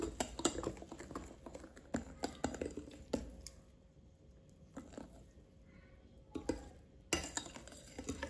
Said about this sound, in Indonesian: Nah, ini kita aduk terus sampai tercampur.